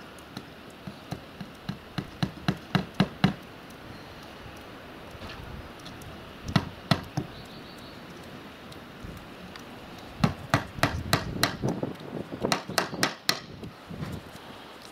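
Nails are hammered in an outdoor setting in clusters of sharp, ringing blows, each strike quick and rhythmic, with pauses between the runs of taps.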